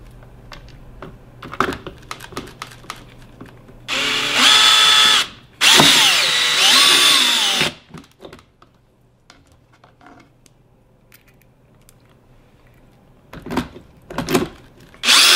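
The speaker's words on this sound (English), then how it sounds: "Make sure you're on the lowest setting on your drill." A power drill set to its lowest setting drives screws while a PIN Genie smart lock is installed, two loud whirring bursts of a few seconds each between quieter clicks and handling sounds.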